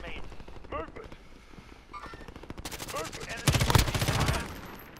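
Gunfire in Call of Duty Warzone: scattered single shots early, then a loud burst of rapid automatic fire toward the end, with game voice chat heard between the shots.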